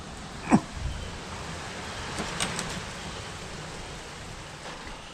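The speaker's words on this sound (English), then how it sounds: "So while it's raining outside" Steady soft hiss of rain falling outside, with a brief knock near the start and a few faint patters; no voices.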